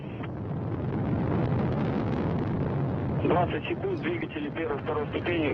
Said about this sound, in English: The thrusters of the first and second stage are operating nominally.